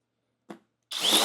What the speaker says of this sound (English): You wanted to drill with your impact driver. You can also drill very rapidly